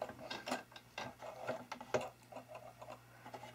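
A sewing machine running with an odd-sounding bobbin gives a quiet, irregular mechanical ticking and clicking over a low hum, several sharp taps standing out.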